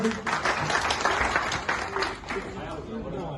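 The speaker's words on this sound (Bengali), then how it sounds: "সবার কাছে হাততালি।" An audience at a business fair in Sylhet claps in a sustained, dense round of applause that tapers slightly near the end, with a voice and background chatter mixed in.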